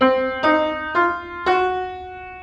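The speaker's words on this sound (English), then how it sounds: "So if we include a flat third, our fourth, and then a raised fourth pitch, it'll sound something like this." Four separate notes ring out one after another, each struck cleanly and left to sustain, the pitch climbing slightly with each note.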